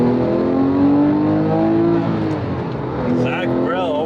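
A Ferrari F50 engine revs at a car meet, its sustained tone rising and falling with throttle changes, loud and close, while voices talk over it.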